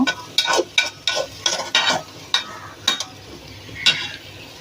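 Cauliflower curry being stirred in a pan, a series of about a dozen rhythmic scraping strokes of a spoon against the metal over a soft sizzle.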